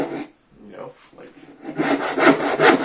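Chinese-style bow saw with a thin, coarse 8 TPI blade rip-cutting wood stock, giving a few soft strokes first, then steady, louder rhythmic push-pull rasping strokes close by.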